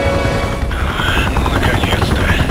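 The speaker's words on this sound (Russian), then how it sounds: "Это вертолет, скорее всего, за мной." A helicopter arriving in a video game, a loud continuous rotor roar that fills the whole stretch, close and steady.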